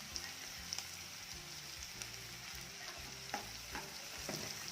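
Chopped onion and garlic frying in oil for dhaba-style dal fry, a constant soft sizzle with intermittent spoon scrapes and light clicks as the mixture is stirred, close and fairly quiet.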